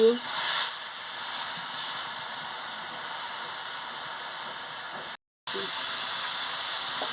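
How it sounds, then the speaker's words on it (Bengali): Cumin and ground spices sautéing in a pan for a Malabar spinach raita, a steady close hiss and sizzle running throughout with a brief dropout. "দিয়ে ভালো করে কষিয়ে নিচ্ছি"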